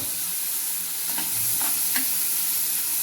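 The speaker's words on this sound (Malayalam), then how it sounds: "വേപ്പില ഇതിലോട്ട് ഇട്ടിട്ട് ഒന്ന് ഇളക്കി കൊടുക്കുക" Onion, carrot and curry leaves cooking in a pan, a continuous sizzle with several distinct stirring scrapes near the middle, close and moderately loud, no speech.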